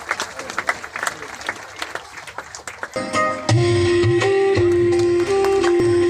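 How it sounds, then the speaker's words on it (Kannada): An audience at a village Madara Chennayya Jayanti celebration in Kavatakoppa, Athani taluk, claps in loud scattered bursts for about three seconds, then a sustained amplified tone and PA sound take over. "ಚಪ್ಪಾಳೆಯನ್ನು ಜೋರಾಗಿ ತಟ್ಟಬೇಕು"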